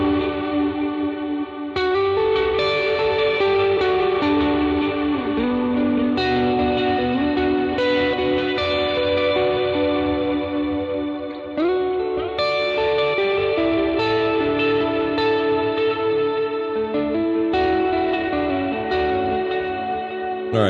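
An electric guitar played through overdrive, delay and reverb rings out alone for about twenty seconds, with sustained notes and phrases trailing into echoing repeats over a thick, continuous wash.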